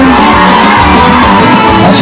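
Crowd of women at a festive gathering shouting, whooping and cheering loudly, a brief dense burst of yells filling the whole moment.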